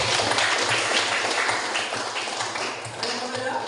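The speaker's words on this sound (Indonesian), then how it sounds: "Oke, beri tepuk tangan dulu" Applause in a classroom, a steady dense patter of many hands clapping throughout, fairly loud and continuous.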